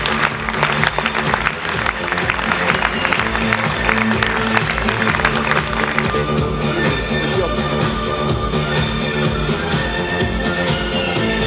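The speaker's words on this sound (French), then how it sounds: "Je vous demande d'applaudir le pélo de la Manade" Audience at an awards evening in Lunel applauds the herdsman of a Camargue manade, a dense, steady roar of clapping from a large crowd filling the hall throughout, easing slightly toward the end.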